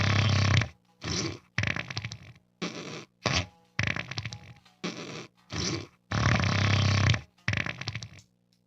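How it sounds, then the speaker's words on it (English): A series of buzzy, blatting guitar tones from a fart-like effect pedal, about ten bursts of varying length separated by short silences. "That was the fart pedal."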